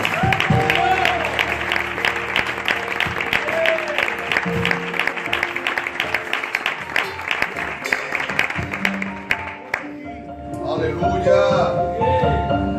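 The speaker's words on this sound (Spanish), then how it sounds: "Dale un fuerte aplauso al Señor." A church congregation claps steadily and loudly for several seconds, the applause thinning near the end as music and voices take over.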